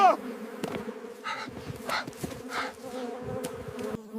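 Honeybees at a hive of Martvili honey in Georgia buzz steadily and close up, a continuous droning hum with individual insects passing near, and no speech over them.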